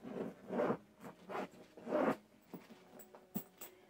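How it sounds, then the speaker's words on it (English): A Steve Madden handbag is zipped closed, with several quick, quiet, scratchy zipper strokes close by in an irregular rhythm and no talk. "so you can zip this back up right"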